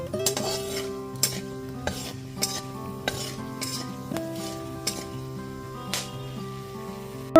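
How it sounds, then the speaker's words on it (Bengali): Whole spices (cinnamon pieces, cardamom pods and cloves) fry gently in oil over a low gas flame, with a soft, steady sizzle and repeated clinking stirs close by, over a sustained tonal hum. "গ্যাসের ফ্লেমটা লোতে রেখে হালকা করে ভেজে নিচ্ছি।"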